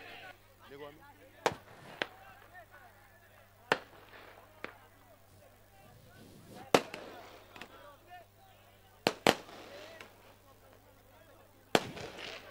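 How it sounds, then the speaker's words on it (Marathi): Fireworks set off at a village cricket tournament prize ceremony: a handful of sharp, loud bangs spaced irregularly over twelve seconds, with a crowd murmuring and voices in between. "तर इथे आविष्कार पाटील मालिकावीर ठरल्यानंतर फटाक्यांची आतषबाजी रुपेश निगुकर यांच्या वतीने करण्यात आलेली आहे."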